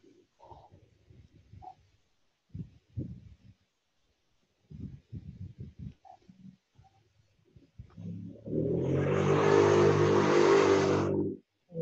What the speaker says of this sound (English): there's a car.